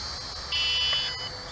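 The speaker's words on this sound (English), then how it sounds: "that's the headless mode beep for you" A steady high electronic beep tone from an XK X260 RC quadcopter, shifting to a slightly louder two-tone headless-mode beep for under a second, then settling back; no talking.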